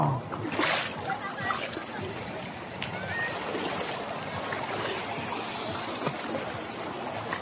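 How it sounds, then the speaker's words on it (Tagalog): Strong river current splashing and rushing steadily at Daraitan in Tanay, Rizal, a broad continuous wash of water close by, with people talking over it. "malakas ang agos dito"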